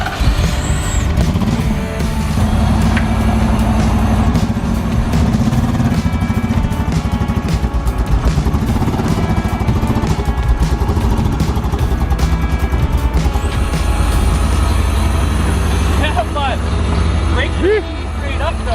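A wrecked Ferrari Koenig kit car, unmoved for five years, rolls out with seized, locking brakes: a loud, continuous engine drone and rumble with scraping, dragging noise, plus people talking over it.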